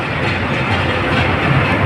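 Steady, loud engine rumble aboard a small ferry loaded with six trucks and pickups, continuous and close with a faint rhythmic rattle running through it.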